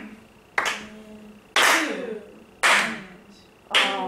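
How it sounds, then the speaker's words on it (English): Four loud, evenly spaced hand claps keep a steady beat about one second apart, each with a short ringing decay, close to the listener with no talking. "So I'll count, clap the steady beat."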